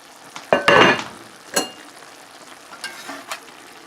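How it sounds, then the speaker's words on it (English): Smoked beef sausage skillet with broccoli frying in a pan, loud close sizzling with bursts of stirring and scraping, then settling to a quieter steady sizzle. "we're going to let that simmer on medium for 10 minutes"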